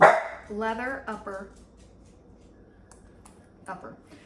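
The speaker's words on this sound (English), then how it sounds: "He just barks. He likes to bark." A dog barks a few times close by, then a short bark again after a pause, with a person talking softly in between.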